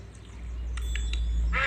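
Cartoon ducks quacking at a pond in a Peppa Pig duck-feeding video game, a few short bright calls over a steady low background hum, ending with a louder burst.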